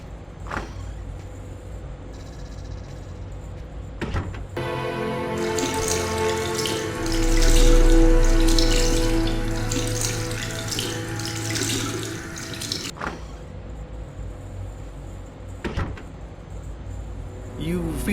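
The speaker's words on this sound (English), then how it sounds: "I'm just gonna go and splash some water on my face." Water gushes from a bathroom tap for several seconds as someone splashes it onto their face, loud and close, with quieter room tone before and after.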